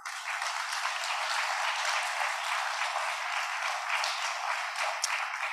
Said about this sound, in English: how about a round of applause for UHS and Amy Stewart?